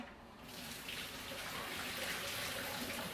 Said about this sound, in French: je vais aller égoutter mon macaroni. Je vais prendre ma passoire Tupperware pour faire ça.